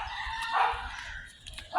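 A rooster crows twice, the calls fairly distant and moderately faint over a low background murmur, spaced about a second apart.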